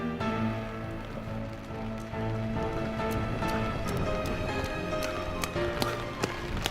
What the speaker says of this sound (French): Mais un jour de pluie,